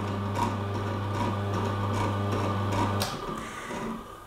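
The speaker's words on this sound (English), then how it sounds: "What happens is it's a slow running motor and it's fairly quiet." A slow-running Juicemaster masticating juicer motor hums steadily and fairly quietly at close range with a faint rhythmic ticking, then switches off after about three seconds.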